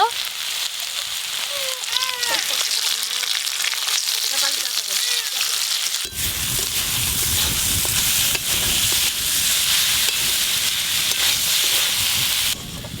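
Red spinach greens fry in mustard oil with poppy seeds, a loud continuous sizzle and hiss with stirring scrapes, while a voice talks over the pan throughout.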